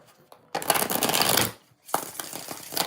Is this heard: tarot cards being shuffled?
yes